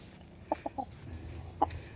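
A rooster clucks in short bursts, three quick clucks followed by one more after a pause, close by over quiet outdoor background.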